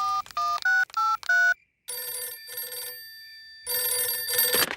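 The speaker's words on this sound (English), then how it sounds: "we'd better phone the king" Cartoon telephone sequence: a quick run of bright dial tones beeping in short bursts, a brief pause, then an electronic ringing tone sounding in repeated trills, clear and close with no talk.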